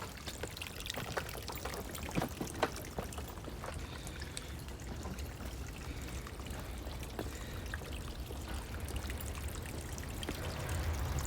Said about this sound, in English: On the side you will see a little stream here, a little water source.